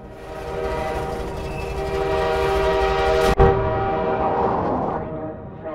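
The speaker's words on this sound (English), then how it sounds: "the train throws the buggy off the side of the bridge in Highway 17" A train crossing the Highway 17 bridge in Half-Life 2 sounds its horn in long sustained tones over a rumbling, clattering rail roar, loud and close, with a sharp impact near the end before the horn fades away.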